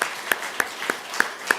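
In a Korean church worship service, the congregation claps for the youth group in a slow, regular rhythm, about six distinct claps in under two seconds over a faint room background.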